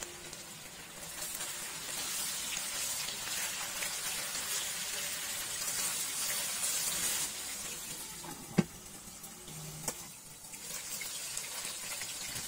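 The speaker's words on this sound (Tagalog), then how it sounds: "lutuin lang natin yan o i-sear lang natin yan until mag-caramelize at mag-brown yung ating karne" Meat searing in hot oil in a pan, a continuous close sizzle and hiss that holds steady, with a couple of sharp clinks near the end.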